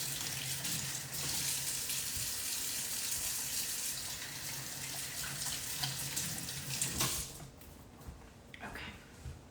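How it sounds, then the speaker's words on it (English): Hands are washed under a running kitchen tap, a steady loud splash and gush of water that cuts off near the end, leaving faint handling sounds; a voice speaks briefly underneath. "I'm gonna wash my hands"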